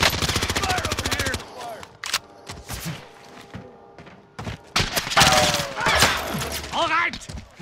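Gunfire in Call of Duty: Modern Warfare opens with a rapid, loud machine-gun burst, followed by scattered single shots, thuds and footsteps while players talk over the fighting.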